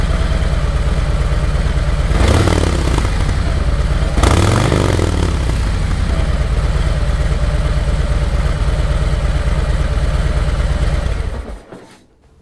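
A Harley-Davidson motorcycle with stock header and stock mufflers idles close by in a steady, mellow low thumping loop, blipped twice with short revs before the engine shuts off near the end.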